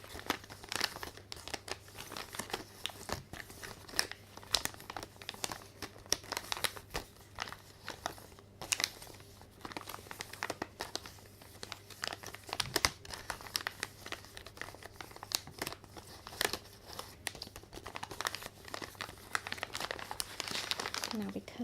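Crinkly plastic Lego Disney minifigure blind packets are shuffled and rubbed together close up in quiet, repeated bursts of crackling and rustling, with no talking.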